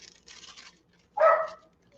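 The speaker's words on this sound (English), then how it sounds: "Go outside and bark, Smokey." A dog gives a single moderately loud bark after being let outside, preceded by some faint indoor noise, in a quiet setting.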